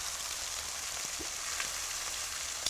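Salmon fries skin side down in a hot pan, with a steady, even sizzle and crackle throughout and a few small pops near the end, close and continuous with no talking.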